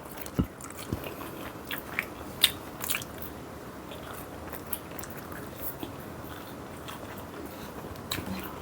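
Papa John's pizza being eaten up close, with a few sharp crunchy bites and soft chewing scattered over a quiet room background.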